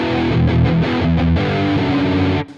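Heavily overdriven electric guitar played with excessive gain, thick saturated chords and notes ringing loud and continuous for about two and a half seconds before cutting off abruptly at the end, with no voices.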